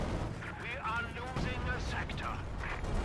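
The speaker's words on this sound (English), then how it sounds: "another artillery strike going off here from the Sturmpanzer 4 and its bunker busting barrage" A Sturmpanzer IV bunker-busting artillery barrage rumbles and booms in Company of Heroes 2, with a caster's voice talking over the repeated impacts.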